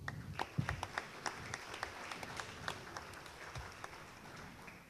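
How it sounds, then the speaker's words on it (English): Applause from an audience at a show cattle sale on a Tuesday evening, a fairly faint and thin patter of scattered hand claps that runs steadily throughout without any talking. "Let's give Tim a round of applause, folks."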